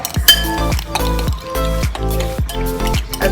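Eggs being whisked with spinach, salt and pepper in a bowl for a breakfast frittata: a fork or whisk clinks rhythmically against the bowl, several quick metallic taps each second, close and clear.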